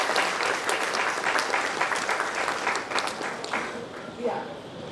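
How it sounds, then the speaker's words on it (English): An audience at an HR conference panel session breaks into loud, dense applause that holds steady for several seconds, then thins out and fades near the end as a voice comes through. "A big round of applause, please."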